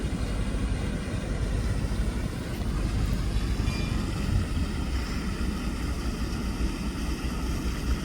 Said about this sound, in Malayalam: ഇത് ഗവൺമെൻറ് ബോട്ടാണ് കേട്ടോ.